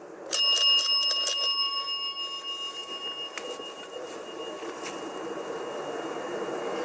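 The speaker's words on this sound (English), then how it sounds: "It's a bell. If you touch it, it will just make a normal bell sound." A bright bell rings in a quick series of metallic dings, then one more strike, its tone lingering and fading over a steady background hiss.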